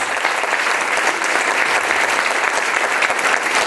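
A church congregation breaks into steady, dense applause, loud and sustained throughout with no letup.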